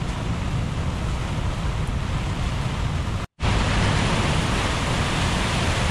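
Strong typhoon wind gusts roar across a campsite during a storm, a loud, dense, steady rushing noise with a brief cutout partway through before the blast resumes just as hard.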